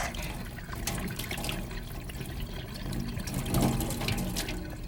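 Water pours out of an upturned bottle in a steady, rushing splash that holds evenly and swells slightly near the end, with no voices.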